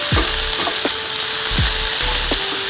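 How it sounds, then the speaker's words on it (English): Vegetables for pad thai sauté in a hot pan, a steady loud sizzle broken by a few scraping stirs of the spatula, with no voices. "I'll quickly add rest of the veggies. These veggies doesn't require much cooking. And we'll saute it again."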